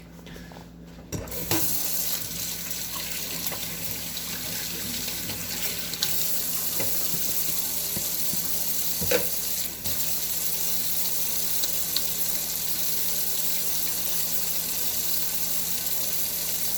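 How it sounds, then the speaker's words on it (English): Hands are washed under a running kitchen sink tap in a high school hospitality classroom, a steady continuous stream of water splashing for the whole stretch with a few brief clinks and knocks, close and fairly loud with no talking. "So you're going to have to listen to me wash my hands."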